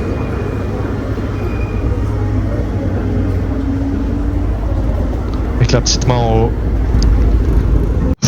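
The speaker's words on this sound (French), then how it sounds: "Le bruit de la R8." Audi R8 on a race circuit, its engine and exhaust a steady loud drone with heavy intake and air rush throughout, while people talk over it.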